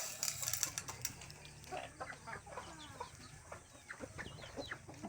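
Pet hens clucking in a backyard flock, a run of short, busy clucks and calls that come close and fairly loud, with some farmyard bustle around them.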